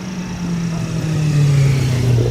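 A Honda CBR RR motorcycle races up the Southern Eliyakanda hill climb course, its engine holding a steady mid-pitched drone that swells and climbs slightly as it passes close by.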